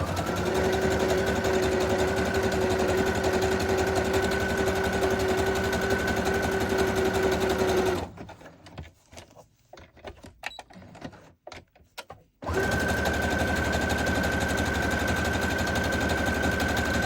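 A sewing machine runs steadily while stitching the pages of a handmade junk journal, a close, constant mechanical whir that stops for a few seconds of quieter handling noises, then starts up again and keeps running.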